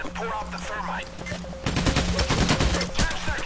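Rapid gunfire in the video game Payday: The Heist as players shoot out security cameras, bursts of shots that grow denser and louder halfway through, mixed with game music and a voice.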